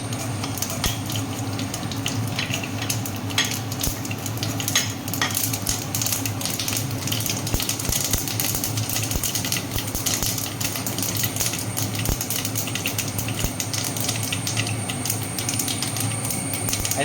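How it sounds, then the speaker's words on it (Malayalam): Mustard seeds spluttering in hot oil, the first step of a homemade chena thandu thoran, a steady dense crackle and sizzle with scattered sharp pops, close and continuous throughout. "ഇപ്പോൾ എണ്ണ ചൂടായിട്ടുണ്ട്. ആദ്യം നമ്മൾ കടുക് ഇടുന്നു."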